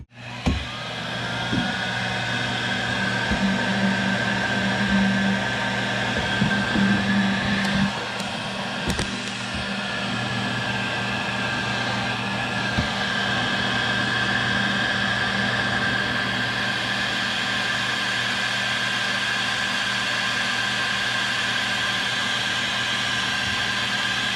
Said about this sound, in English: we'll use our little Bauer heat gun for this